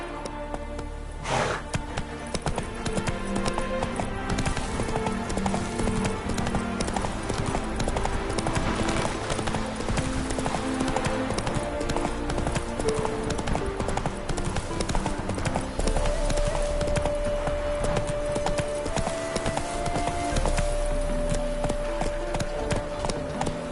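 A horse's hooves clip-clop in a steady trotting rhythm in The Witcher, sounding close and distinct over ambient game sound and music, with brief voices.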